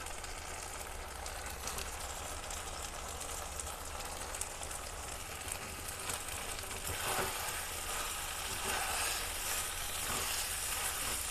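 Minced meat sizzles and fries in a pan with ginger paste, a steady broadband crackle running throughout with soft stirring scrapes, no talking.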